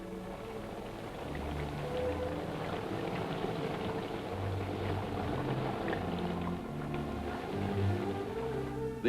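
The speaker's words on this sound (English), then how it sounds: "this Jeep engine, which is capable of running entirely submerged in water" A Jeep engine runs while fully submerged in water, making a continuous low rumble tangled with churning, bubbling water, steady and moderately loud for the whole stretch.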